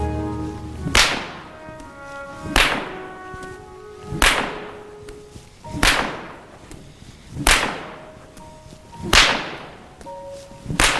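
A whip cracks during in-hand horse training, six loud sharp cracks evenly spaced about every one and a half seconds, each with a ringing tail, close by with no talking.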